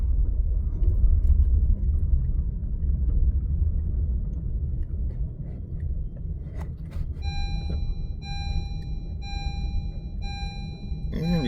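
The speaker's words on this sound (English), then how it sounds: "I will drive down the road so you guys can see." A Honda CR-V, just back on the road after a fuel pump replacement, drives along with a steady low engine and road rumble throughout; near the end a series of repeated electronic chimes sounds from the dashboard.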